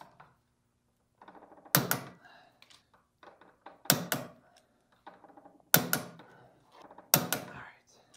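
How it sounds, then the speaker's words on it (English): A C5 Corvette torque tube has its bolts torqued in stages. A ratchet clicks in short runs, each run ending in a sharp metallic snap of the torque wrench, repeated four times at close range between quiet gaps. "Tighten them, torque them. Time to torque these now."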